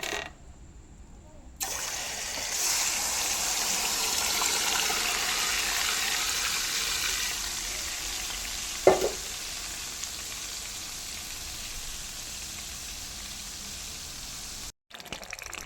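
Ginger garlic paste fries in oil for a shrimp pickle, a steady, close sizzle hissing throughout with one sharp scrape of a spoon midway and a short silence before the sizzle starts.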